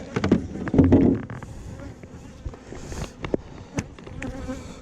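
Honey bees buzz close by at a dead hive, robbing it, with individual insects droning past the microphone in swelling passes, plus occasional soft knocks and rustles, no talking.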